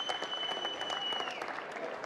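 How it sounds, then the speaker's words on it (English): An audience claps for Brazilian fighters at a mixed martial arts press conference, a brief burst of steady, moderately distant applause filling the room, with a faint high electronic tone running underneath. "I'll give you a moment to give them applause as well, to the Brazilians coming out"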